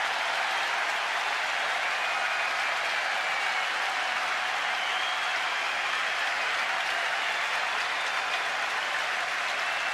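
A baseball crowd at an Orioles home game against the Yankees rises and applauds, steady dense clapping and cheering sustained loud throughout with no talk.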